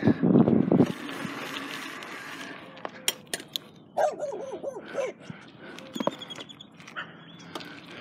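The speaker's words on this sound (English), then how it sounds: "Here's a loose dog." A loose dog at a college campus in Arizona gives a few short barks and yips, with whimpering among scattered nearby noises, fairly faint overall.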